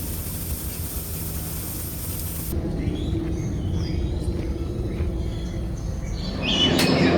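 Birds chirping in a tropical aviary section in Singapore, faint scattered tweets over a steady hiss of background noise, with a louder whooshing rise near the end.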